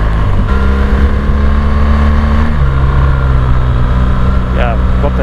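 A 2017 BMW R1200GS motorcycle ridden off-road, its boxer engine droning steadily and loud with a constant low throb and slight pitch shifts as it rolls on, heard up close throughout.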